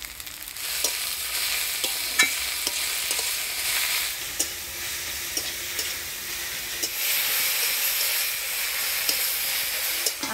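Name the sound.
chopped jute leaves being stir-fried in a pan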